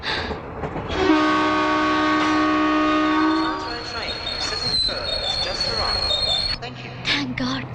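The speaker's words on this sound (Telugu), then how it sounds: "ట్రైన్ మళ్ళీ బయలుదేరుతుందండి" A passenger train pulls away from a station with a long, loud horn blast, then a steady rumble of moving carriages and clatter. Voices are heard amid the noise.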